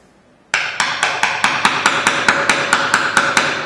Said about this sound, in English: We'll just grab that hammer and find out.